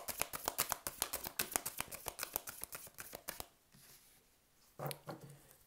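Tarot cards riffle and flick in a rapid run of crisp snaps, then pause before a brief final shuffle, close but quiet.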